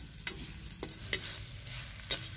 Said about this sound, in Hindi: उर्दी सुनहरी होने तक भूनना है।